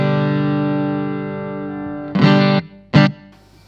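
An electric guitar through a NUX Mini Studio IR loader pedal with an added space effect: a long sustained chord rings out with a spacious, washy effect, followed by two short bursts of brighter strummed notes.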